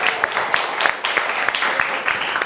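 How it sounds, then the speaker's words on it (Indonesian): A television studio audience claps together, a continuous busy patter of many hands at moderate loudness, with some voices mixed underneath. "boleh tepuk tangannya suara perempuan"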